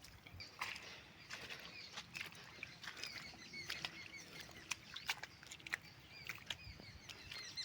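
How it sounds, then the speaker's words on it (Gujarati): Light drizzle falling outdoors on a farm during weeding in prolonged rain, a soft faint patter of scattered drops with irregular small taps, no talking. "કારણ કે રીમઝીમ વરસાદ ચાલુ છે"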